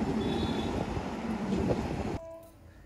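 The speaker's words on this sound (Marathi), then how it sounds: "इथे ट्रेन जात आहे आणि त्या कारणाने आपण इथे गाडी थांबवलेली आहे" A train rolls past a level crossing near Hamrapur, Pen, with a loud, steady rumble of wagons filling the first two seconds before cutting off abruptly into a quieter tail with a faint tonal hum.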